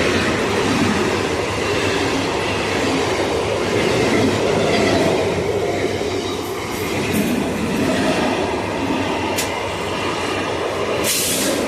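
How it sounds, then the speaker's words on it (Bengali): A train rumbles nearby as it approaches and passes, a loud, steady roar with faint clacking from the wheels and a brief squeal near the end. "ট্রেন আসছে, আওয়াজ পাচ্ছি।"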